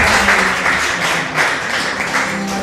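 A church congregation at a Sunday service in Paris claps together, a dense sustained burst of applause close and loud for a few seconds, no talk.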